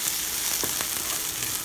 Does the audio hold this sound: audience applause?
no